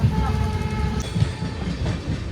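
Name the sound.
train running on rails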